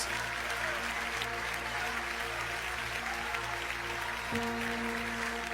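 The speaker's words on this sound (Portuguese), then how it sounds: "Aplaude com mais vontade." A church congregation applauds steadily throughout, a dense, even wash of clapping with a sustained musical tone droning underneath and no clear voices on top.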